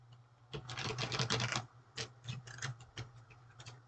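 Quick, faint bursts of slick tarot cards riffling and slapping together, a few shuffles in a row, recorded close in a quiet room.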